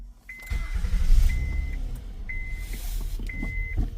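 A Honda Accord engine cranks and catches via smart key button, then settles into a steady idle, while a series of evenly spaced electronic chimes beeps four times over it.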